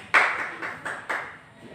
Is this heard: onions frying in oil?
no